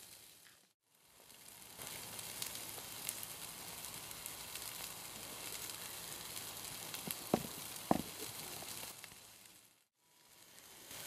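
Chopped lemongrass sizzling in a pan with spring onions, a soft, even frying hiss that builds after a quiet start, with a couple of faint clicks before it drops away.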